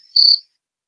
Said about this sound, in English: that's all he's hearing is crickets